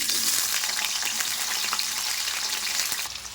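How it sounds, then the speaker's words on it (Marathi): Diced potato frying in about two spoons of hot oil for sukha jawla, a steady close hiss and crackle of sizzling with faint stirring, no voices. "त्याच्यामध्ये आपण आता प्रथम बटाटा टाकणार आहोत"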